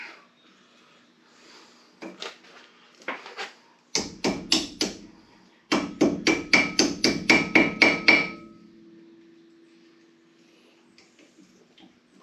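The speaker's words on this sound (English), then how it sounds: "Probably have to tap it with a hammer so it'll get straight, real straight." A hammer taps a metal part to straighten it, with scattered single blows and then two quick bursts of about a dozen sharp, ringing strikes, close and clear before falling quiet.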